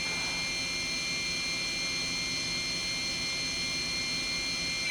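Matsuura four-axis vertical machining center spindle spinning at 10,000 RPM gives a steady, loud high-pitched whine with constant broadband noise, unbroken and alone with no talk.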